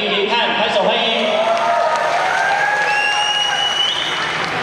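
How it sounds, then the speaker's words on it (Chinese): An audience at a church stage event at Chung Yuan University claps to welcome a performer. The applause is loud and sustained and blends with crowd voices and cheers. "拍手欢迎"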